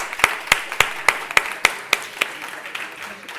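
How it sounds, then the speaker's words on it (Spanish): Applause from a seminar audience on urban time policies: sharp, evenly spaced claps ring out roughly three times a second, then thin out and fade toward the end. "Un aplauso para ellas."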